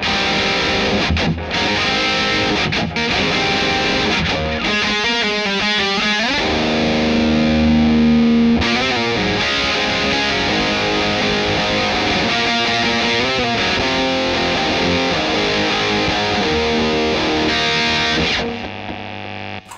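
A heavily overdriven electric guitar played through a Line 6 HX Effects unit plays gritty, saturated riffs and sustained chords, loud and distorted throughout, with a noisy hum tail.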